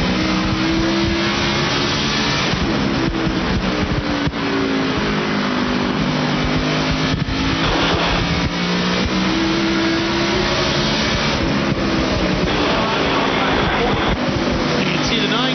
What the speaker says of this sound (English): Just what Frank Kimmel wanted to see as he drives down in the corner getting by that lap traffic